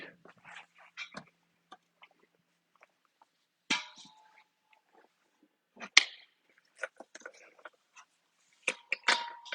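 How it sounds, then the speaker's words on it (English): A propane tank for a FIRMAN generator is picked up and handled, giving a few sparse metallic clanks and knocks at close range, quiet between them, with light handling noise. "And I'll grab a propane tank."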